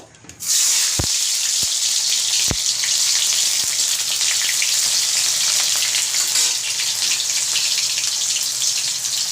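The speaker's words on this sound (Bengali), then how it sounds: "আমি তেলের মধ্যে কেটে রাখা টমেটোটা দেব" Chopped tomato hits hot oil and fries with a loud, steady sizzle that bursts in suddenly and continues, with a few sharp clinks of utensils early on.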